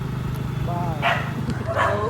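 Dogs barking on a road, a couple of short sharp barks standing out over a steady vehicle hum while people talk close by.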